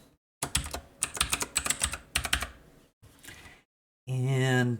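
Rapid bursts of keystrokes on a computer keyboard as a password is entered on a desktop setup, clustered clicking in quick runs with short pauses, followed by a brief sustained electronic tone at the end.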